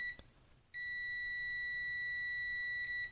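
A multimeter's continuity tester beeps as its probes touch points on a Sony DualSense BDM-020 controller board; after a faint click, one steady, loud high-pitched tone starts and holds unbroken to the end.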